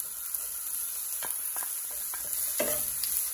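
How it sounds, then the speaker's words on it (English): Onions sauté in oil in a pan for seafood fried rice, giving a soft, steady sizzle with a few scraping stirs and one louder stir near the end, close and without talk. "And now it's time to saute our onions."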